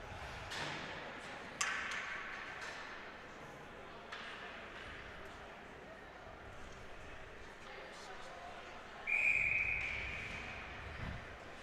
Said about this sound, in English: we're going to have a whistle here